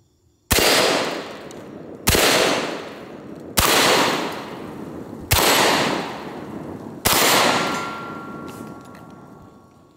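Five loud shotgun blasts from a Panzer M4, a Benelli M4 clone, fired at a steady pace about one and a half seconds apart, each with a sharp crack and a long ringing outdoor decay.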